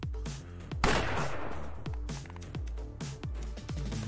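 Gunshots in the video game Fights in Tight Spaces: one loud burst-like blast stands out near the start over a pulsing, rhythmic game music bed.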